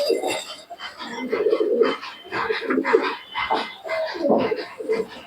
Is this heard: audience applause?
no